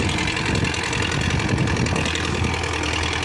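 A tractor engine runs steadily at close range as the vehicle climbs a slope, a continuous loud rumble with no pauses.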